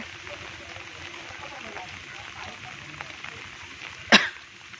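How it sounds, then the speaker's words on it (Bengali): Steady rain falling as a broad, even hiss, with a single sharp clatter near the end. "বৃষ্টি পড়ছে দেখতে পাচ্ছ"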